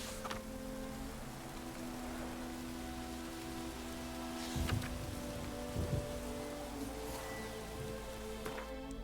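Steady rain in the video game The Witcher 3 hisses evenly throughout, with a few soft low thumps and a faint hum underneath; no voices.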